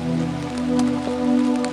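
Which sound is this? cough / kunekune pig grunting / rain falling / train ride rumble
rain falling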